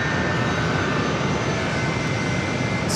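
A JetBlue Airbus A321 jet heading for JFK makes a steady, loud broadband roar at an airport, holding constant throughout without pause or voices.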